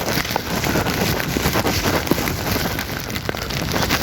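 Steady rain falling around a runner outdoors in Delhi, a continuous broadband hiss with light wind buffeting the microphone and scattered drop hits, constant and fairly loud throughout.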